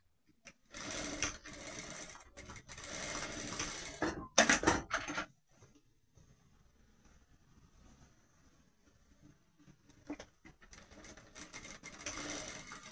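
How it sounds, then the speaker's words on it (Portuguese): A sewing machine stitches two overlapped ends of elastic for a shorts waistband in quick close bursts: a long rattling run, a short second burst, then near silence before stitching resumes. "Aí eu vou posicionar aqui, ó, um pedacinho um em cima do outro e vou fazer uma costura."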